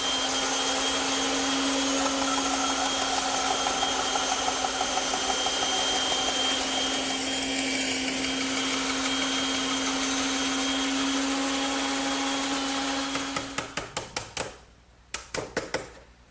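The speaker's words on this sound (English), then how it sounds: "but I prefer to do it on the bandsaw." Bandsaw cutting the shoulder on wooden tenons for a trestle table: a steady, loud motor whine with a drone for about thirteen seconds, then the saw winds down into a series of rattling clicks.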